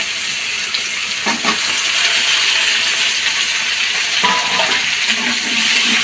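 Eggplant and pumpkin pieces hit hot oil in a pan for a Bengali shahi bhaji, giving a loud, steady frying sizzle with a couple of brief splashy bursts as the vegetables go in, no talk.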